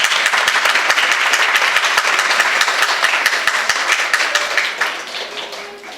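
Loud, dense applause for the winner of an under-15 blind and open rapid chess tournament in Bhavnagar, with sharp individual claps standing out, fading gradually over the last second.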